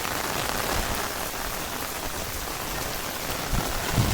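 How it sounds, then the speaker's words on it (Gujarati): Heavy monsoon rain pours down steadily outdoors, a dense, loud, unbroken hiss of drops hitting the ground and surfaces, with no voices over it. "જો વરસાદ કેટલો બધો પડે છે।"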